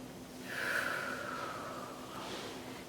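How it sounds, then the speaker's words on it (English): A single deep breath in followed by a slow, drawn-out exhale during a guided meditation, soft and close with a brief airy rush at the start that fades into a long quiet sigh. "take a little bit deeper breath and exhale a little more slowly"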